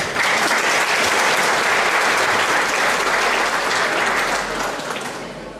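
Sustained applause from an audience at a Lemko community gathering in Vrbas, Serbia, with dense, steady clapping throughout that fades slightly at the end, and no talking.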